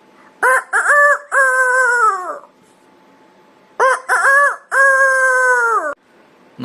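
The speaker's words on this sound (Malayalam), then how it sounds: "കോഴി കൂവുന്നത്" A rooster crows twice, loud and near, each call a long drawn cock-a-doodle-doo with a short pause between, against a quiet background.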